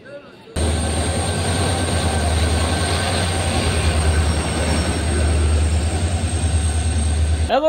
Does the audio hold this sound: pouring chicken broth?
no